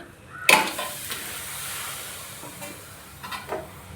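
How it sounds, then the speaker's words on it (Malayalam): Washed chicken drops into a pan of frying spiced masala with a loud burst of sizzle, followed by a steady hiss and a few stirring scrapes for biryani. "കഴുകി വെച്ചിരിക്കുന്ന ചിക്കൻ ഇട്ട് കൊടുക്കാവേ"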